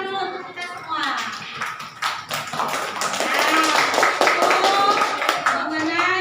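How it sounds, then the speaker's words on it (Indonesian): Students in a classroom clap together for several seconds, a brisk, fairly loud burst of applause with a few rhythmic taps. Children's voices and chatter mix in underneath. "Kasih tepuk tangan dulu untuk kita semua."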